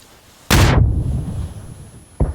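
A loud bomb blast in PUBG, a sharp boom that rolls into a long rumbling decay, followed by the sudden onset of a second blast at the very end.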